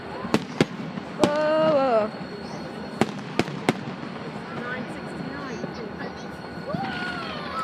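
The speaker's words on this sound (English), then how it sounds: "Ooh, ooh, ooh, fireworks." Canada Day fireworks bursting outdoors, a series of sharp separate bangs spaced irregularly over several seconds, with whistling rising trails and a voice exclaiming between them.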